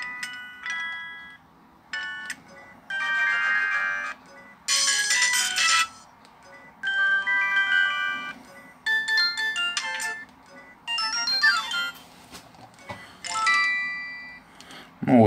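Ringtone and keypad tone previews on a 2006 Samsung D900 slider phone, a string of short electronic melodies and chimes played one after another with brief silent gaps, clear and close through the phone's speaker.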